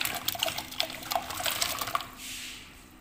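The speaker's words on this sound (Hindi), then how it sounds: "और इसको हम उबलने के लिए डाल देंगे, पकने के लिए पानी में" Raw water chestnuts (singhara) dropping into a pot of water for boiling, a run of small splashes and drips in quick irregular succession, close by, ending in a softer watery hiss with no talk.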